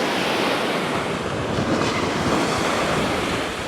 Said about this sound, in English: Just listen to those waves crashing.